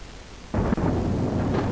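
A storm breaks in a video game with one sudden, loud thunder crack that settles into a steady, heavy rumble, close and continuous after a quiet start.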